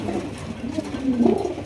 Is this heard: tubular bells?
no